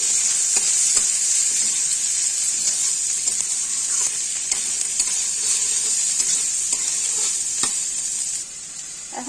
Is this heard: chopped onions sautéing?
yes